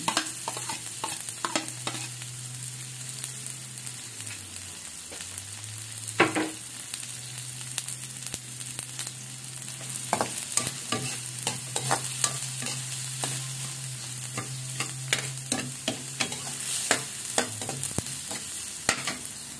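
Garlic sautéing in a pan while making papaitan with beef innards, a steady close sizzle with frequent scraping and stirring clicks of a utensil against the pan, a low hum running underneath throughout.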